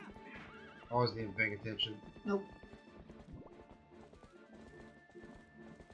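Horse in The Legend of Zelda: Twilight Princess whinnies loudly, then its hooves clop rhythmically at a gallop beneath game music, while a person talks over it.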